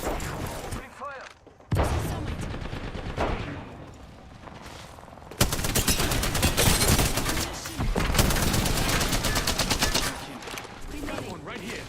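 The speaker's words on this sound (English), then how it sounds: "Opening fire." Dense bursts of automatic gunfire and explosions crackle through a shooter video game round, loud and sustained with brief gaps, while someone speaks over the action.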